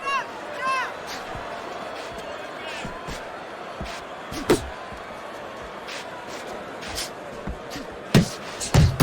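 Punches landing in a Fight Night Champion simulated boxing bout between Mairis Briedis and Yunier Dorticos, heard as scattered sharp thuds over steady crowd noise and commentary, with a tight cluster of hits near the end.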